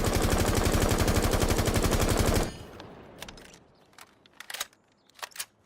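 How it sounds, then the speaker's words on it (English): A rifle in the shooter game Rainbow Six Siege fires a long, rapid full-auto burst for about two seconds, then stops abruptly, leaving scattered faint clicks and a few short distant shots. "what I'll sometimes do is put a few bullets into that one"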